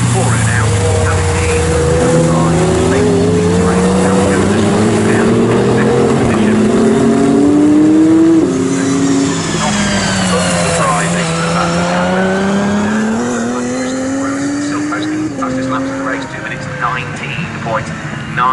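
GT race cars lap Snetterton circuit with a BMW in the lead, engines droning loud and continuous with rising and falling pitch as they pass, under steady commentary.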